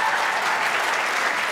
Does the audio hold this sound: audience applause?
yes